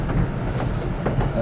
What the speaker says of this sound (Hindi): ये वड़ाइच एक्सप्रेस यहाँ खड़ी हुई है कराची से लाहौर